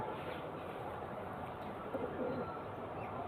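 Faint coos of a female pigeon murmur beneath a steady wash of background noise.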